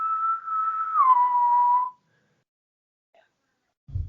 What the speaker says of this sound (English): I reply back with a sailor's whistle response on my flute.